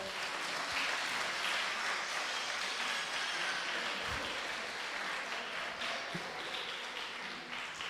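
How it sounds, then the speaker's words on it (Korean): A church congregation applauds warmly after a baptism announcement during a Sunday worship service, a continuous, even wash of many hands clapping that holds steady throughout. "뜨겁게 박수해 주시고요"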